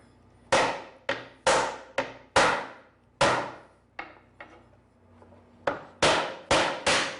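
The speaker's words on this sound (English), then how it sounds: "I'm going to turn it over and do a little tapping on the other side." A wooden small-cabinet dovetail joint is tapped together with a mallet or hammer, about eleven sharp, close knocks in irregular pairs and singles, each ringing briefly, with no talking.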